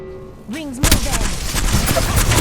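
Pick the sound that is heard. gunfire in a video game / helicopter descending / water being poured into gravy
gunfire in a video game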